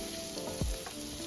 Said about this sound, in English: on high heat, we start frying the onions until translucent.